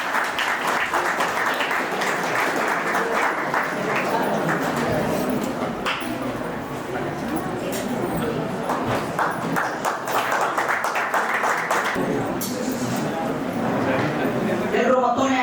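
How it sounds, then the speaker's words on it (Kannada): An audience claps at a B.Ed college farewell and lamp-lighting ceremony, with sustained crowd applause filling the room and voices mixed in throughout. "ಎಲ್ಲರೂ ಮತ್ತೊಮ್ಮೆ ಗಂಗನಗೌಡ ಸರ್ಗೆ ಚಪ್ಪಾಳೆ ಮೂಲಕ ಗೌರವಿಸಬೇಕು"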